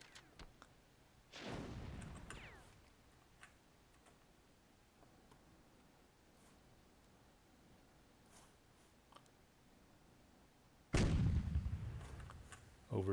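Two heavy tank cannon blasts boom in a World War II Myth II Soulblighter match, one early and one near the end, separated by a long, quiet stretch with faint ticks.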